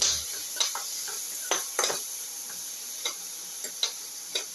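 Shallots and onions cooking in a pan for a ginger eggplant potato casserole: a soft, steady sizzle with scattered light clicks and ticks of a utensil stirring against the pan, no voices.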